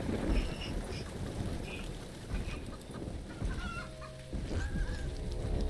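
Chickens cluck and squawk in a Roblox horror game, scattered short calls over a dense, noisy game soundscape with steady low rumble throughout.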